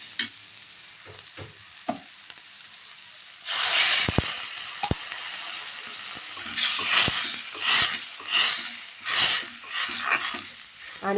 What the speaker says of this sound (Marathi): आता यामध्ये आपण साधारण अर्धी वाटी गरम पाणी घालू।